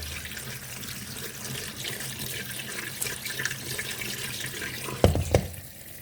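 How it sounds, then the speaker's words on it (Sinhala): Boiled pasta being rinsed under a running kitchen tap, a steady broadband rush of water filling and splashing in a sink throughout, with a couple of louder knocks and splashes near the end as the pasta is handled; no talk. "අපි මේක දැන් වතුරෙන් හොඳට හොද ගන්නවා."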